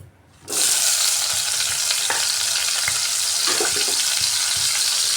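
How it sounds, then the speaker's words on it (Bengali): Cut potatoes coated with salt and turmeric fry in hot refined oil, a loud steady sizzle starting after a brief quiet moment, with occasional stirring scrapes close by. "আলুটাকে একটু ভাজা ভাজা করে নিচ্ছি"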